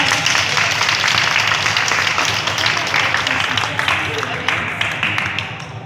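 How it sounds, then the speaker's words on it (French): An audience applauds a glassblower during a glassmaking demonstration, a dense, steady wash of many hands clapping at close range that carries on without a break and thins slightly toward the end. "Et ben voilà, vous pouvez l'applaudir maintenant."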